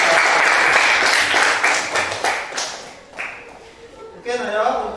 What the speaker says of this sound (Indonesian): beri aplaus semuanya